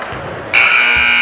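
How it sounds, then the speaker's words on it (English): A loud electronic final buzzer at the end of a high school boys basketball game between Chaney and Chardon cuts in abruptly after a quieter gym murmur and holds as a steady, harsh tone. "final buzzer sounds"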